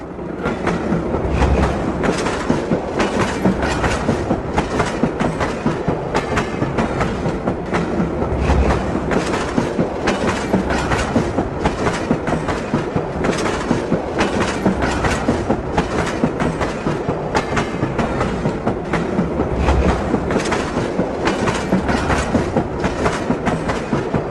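A train rumbles steadily along the rails, loud and continuous, with rhythmic clickety-clack of wheels over joints throughout.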